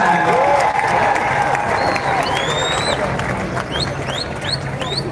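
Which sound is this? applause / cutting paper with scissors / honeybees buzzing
applause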